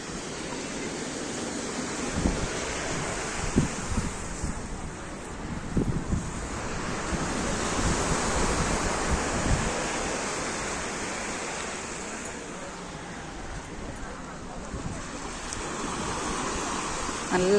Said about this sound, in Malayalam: നല്ല തിരമാലകളാണ്.